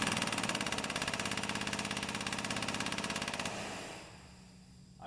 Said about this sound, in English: apply the air pressure to operate the pump